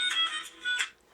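A phone ringtone chimes in brief repeated tonal bursts, fairly clear and close, with no talking over it.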